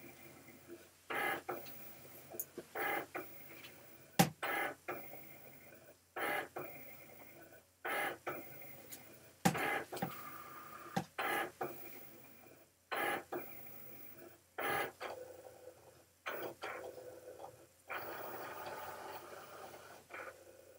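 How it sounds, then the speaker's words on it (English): A Cricut Explore cutting machine reads registration marks and cuts a small square, giving quiet intermittent whirring bursts and clicks from its moving carriage, faint and close, with pauses between the movements. "the Cricut is going to cut that little square in the middle"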